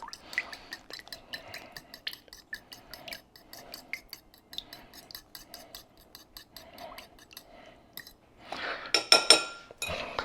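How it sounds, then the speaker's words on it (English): Ingredients stirred together in a bowl for a smoked pulled pork rub, with repeated light clinks and scrapes of a utensil against the bowl in a steady rhythm, followed by a louder burst of rattling near the end. "Go ahead and give those a nice little mix until they're well incorporated."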